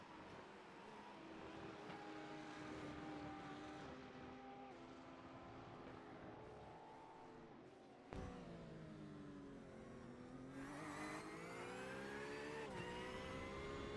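A Porsche GT race car engine in the iRacing sim, racing at Algarve, drones steadily and then revs sharply higher through gear changes, loud and continuous with no talk over it.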